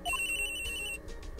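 A cell phone rings in the Phoenix Wright: Ace Attorney video game, a short, clear electronic ring tone, close and alone for about a second.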